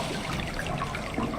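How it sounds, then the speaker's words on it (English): Steady flowing, trickling water fills the whole moment at moderate volume, with no voices, from the video game Endzone: A World Apart. "You can hear the water, makes you want to pee."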